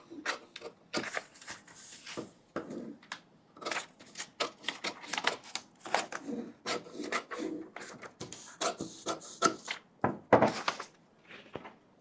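Fabric for a blouse belt being cut by a tailor, heard as close, irregular crisp snips and rustling cloth, steady through the stretch with no talking.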